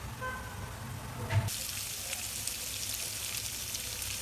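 Onion paste frying in oil for a restaurant-style chicken gravy, a soft, steady sizzle that grows brighter partway through after a brief clunk, heard close with no voices.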